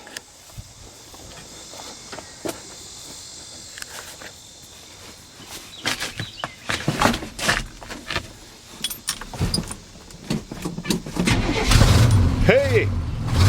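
A 1983 Chevy truck with a 454 engine cranks and fires up outdoors after gas is squirted in. Its rough, rising engine noise builds over scattered clunks and footsteps, with people talking nearby.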